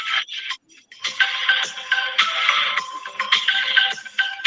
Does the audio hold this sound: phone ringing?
yes